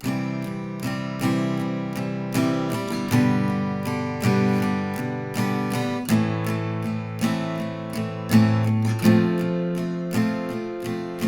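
An acoustic guitar strums chords in an even eighth-note rhythm, each downstroke and upstroke clearly audible, played close and alone.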